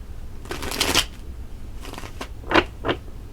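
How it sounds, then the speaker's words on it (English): Tarot cards being shuffled close up, a long riffling burst followed by two quicker snaps, with no talk. "let's pull some tarot cards"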